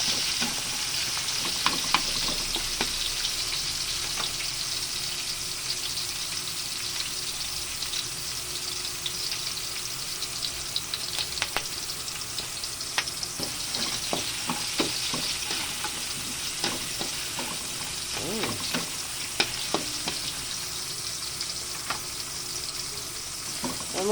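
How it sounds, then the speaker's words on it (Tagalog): White onion and garlic fry in a pan with a continuous hiss and sizzle, while a utensil stirs and scrapes in scattered clicks and knocks, mostly with no voices. "medyo i-caramelize lang natin mga kapalangga yung ating white onion at saka yung ating garlic"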